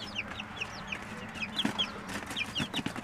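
Jersey Giant chicks peep in a barn, with rapid high chirps and soft clucks repeating close up over a low steady hum.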